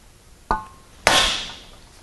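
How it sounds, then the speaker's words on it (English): A metal shaping hammer strikes sheet metal to start a bead, first a light tap, then one hard ringing blow that rings and decays over about a second, close and loud. "One hit with a hammer"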